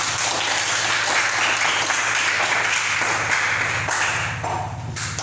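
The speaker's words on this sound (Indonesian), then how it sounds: "tepuk tangan untuk kelompok 4" Steady applause from a classroom group praising group 4's presentation on the pangkumpang, a Toraja musical instrument, dense clapping holding level before easing slightly near the end.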